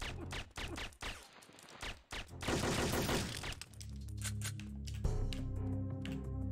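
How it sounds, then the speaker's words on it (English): Rapid gunfire in the retro video game Siphon Filter, with bursts of sharp cracks and automatic shots that run into a dense volley, followed by a droning in-game hum with more shots over it, loud and continuous. "you run down that hallway firing wildly"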